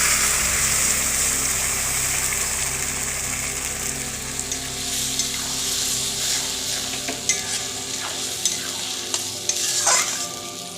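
Spice paste sizzles and fries in hot oil with browned onions in a pan, a steady close crackle with scraping stir strokes and a few sharper clinks of a spoon toward the end.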